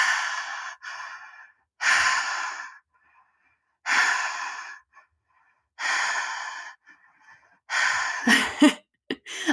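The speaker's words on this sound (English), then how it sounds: "you just breathe in and out" Someone breathes in and out continuously through the nose or mouth, producing about five loud, close, breathy rushes in a steady rhythm, ending in a few quick, sharper puffs.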